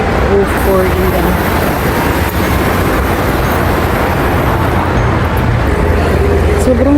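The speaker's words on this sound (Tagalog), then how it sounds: "Maririnig yung mga sasakyan sa background." Traffic on the SLEX expressway heard from nearby, a steady loud roar of passing vehicles and road noise with occasional rumbles, while a person talks over it.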